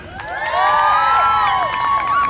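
Children and adults at a children's show cheer and shout with rising, swooping voices, a loud continuous crowd roar with little distinct clapping.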